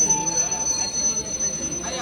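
A train leaving Malkapur station, heard from inside a carriage as a low, steady running rumble with a faint high squeal. A person talks over it.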